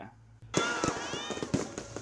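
New Year fireworks over Boracay Island greeting 2025, with several sharp bursts and crackles ringing out over crowd noise, loud and close after a brief quiet start.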